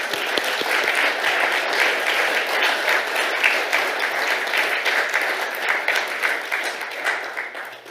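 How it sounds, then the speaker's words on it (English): An audience at a UK–Kenya investment partnership signing breaks into loud, continuous clapping that holds steady for most of the stretch, then tapers slightly at the end. "Show by applause"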